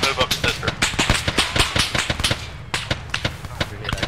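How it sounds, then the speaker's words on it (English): Rapid bursts of gunfire crackle through an ArmA3 firefight at an enemy DPRK outpost, sharp repeated reports in uneven clusters, some close and loud, others more distant, with voices over radio talking beneath. "Receiving fire."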